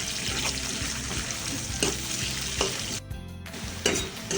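Onion fries in oil in a pan with a steady, dense sizzle and occasional stirring scrapes, close by, continuous and without speech.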